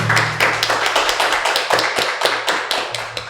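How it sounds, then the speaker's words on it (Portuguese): Applause at a Catholic catechesis podcast gathering for Archbishop Dom Alberto: a short burst of sharp, fairly sparse hand claps from a small group indoors, irregular and close, with no talking over it. "queremos pedir a vocês que estão aqui uma salva de palmas para o nosso arcebispo Dom Alberto"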